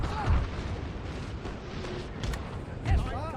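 Artillery firing canister shot in Napoleon: Total War booms out in a few separate heavy blasts over a busy battlefield din, with a voice talking faintly underneath.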